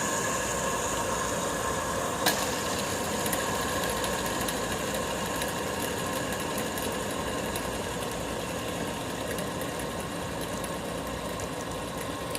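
A glow-in-the-dark ring fidget spinner with two spinning rings whirs steadily and continuously up close, a sustained even mechanical hum with no talk.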